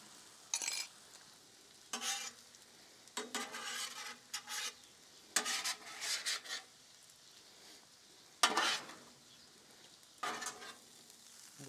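Food sizzling on a Weber Slate rust-resistant griddle as a spatula mixes it, with repeated bursts of scraping and stirring against the flat cooking surface over a soft background sizzle, close and fairly loud, no talk.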